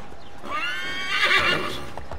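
A horse in Assassin's Creed III Remastered whinnies loudly and close, a long wavering neigh over a few clip-clopping hoofbeats on the ground.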